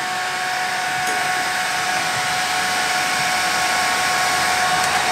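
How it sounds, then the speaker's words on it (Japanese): A hair dryer runs steadily, close and loud, warming a part on a new Harley-Davidson Low Rider S FXLRS motorcycle. It is a continuous even whoosh with no talk. "ドライヤーをつけて温めていきます"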